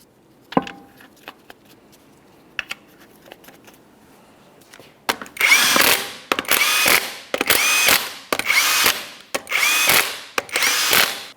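Power tool, likely an impact wrench, running 21mm lug nuts onto the front wheel of a 2004-2008 Ford F-150: several loud bursts of whirring and rattling, each a second or so, following quieter clicks and taps.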